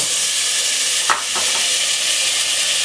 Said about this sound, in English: I'm gonna put 2 spoons of butter inside of it.